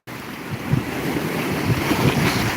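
Waves washing up on a Cuban beach, a continuous rushing surf close by with gusts of wind buffeting the microphone, building slightly toward the end.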